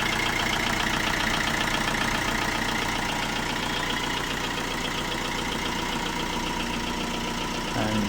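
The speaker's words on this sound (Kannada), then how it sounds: "ಆ್ಯಂಡ್ ಇಂಜಿನ್ ನಾಯ್ಸ್ ಕೂಡ ನೀವು ಕೇಳಿಸ್ಕೊಬೋದು" A 2014 Chevrolet U-VA Sail diesel engine idles at a constant, even rumble, close and steady for the whole stretch with no talking.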